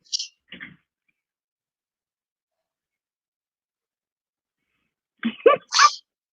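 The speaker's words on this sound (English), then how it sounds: "And I have to sneeze." A person sneezes close up, a short breathy lead-in, silence, then a sharp burst, fairly loud against a quiet room.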